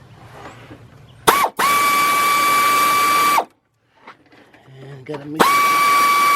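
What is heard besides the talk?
air ratchet driving socket on radiator bolt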